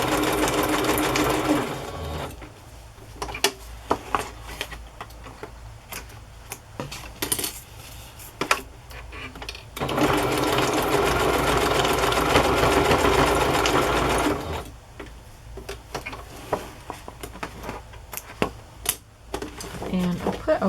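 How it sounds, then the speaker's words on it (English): A sewing machine runs a zigzag stitch in two sustained whirring bursts, with clicks, taps and handling knocks scattered through the quieter stretches between them. "I'm going to use zigzag stitch here"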